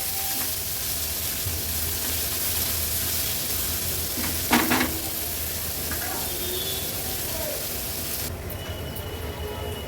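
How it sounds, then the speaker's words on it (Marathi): Onion frying in oil with a spoon of ginger-garlic crush over a medium flame, a steady close sizzle running throughout with a brief scrape of stirring midway. "कांदा आपल्याला तेलामध्ये मीडियम फ्लेमवर व्यवस्थित शिजवून घ्यायचा आहे."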